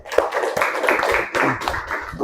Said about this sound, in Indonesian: Kita beri tepuk tangan untuk Yazid